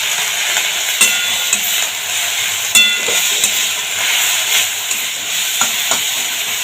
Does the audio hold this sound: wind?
no